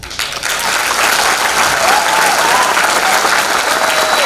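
Dense, steady audience applause at a charity concert in Batočina, a full crowd clapping continuously and loudly for several seconds.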